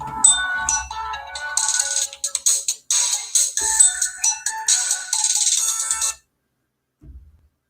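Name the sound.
telephone ringing on an outgoing call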